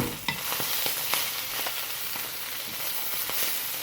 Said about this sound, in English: to stir around my noodles so they unclump from each other